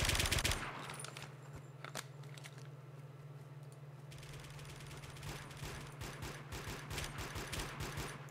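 Rapid automatic gunfire rattles in the chaotic shooter video game Warmode, dense bursts of shots rolling on and off against a steady low hum, loud and close with no voices.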